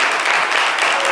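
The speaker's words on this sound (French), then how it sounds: "Applaudissez pour lui, s'il vous plaît" Brief burst of audience applause at a live show, dense steady clapping filling the short moment.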